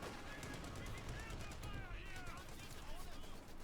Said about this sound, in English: destroying the anti-tank gun with his stolen anti-tank gun